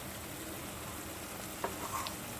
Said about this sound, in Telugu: పక్కన పెట్టుకున్న చేప ముక్కలు కూడా దీంట్లో యాడ్ చేసుకుందాం